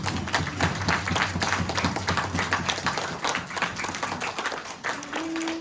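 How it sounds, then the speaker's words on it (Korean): A church congregation at a Sungrak Church middle-school Sunday worship service claps together in a steady, rhythmic beat. The clapping is close and fairly loud, and it keeps going through the whole stretch. "우리 예수 이름 앞에 박수로 영광합니다."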